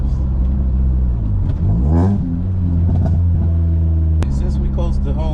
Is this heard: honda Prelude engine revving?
yes